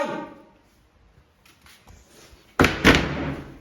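Two heavy thuds land in quick succession as a locked door is kicked in a horror video game, loud and booming after a stretch of faint, low ambience and small creaks.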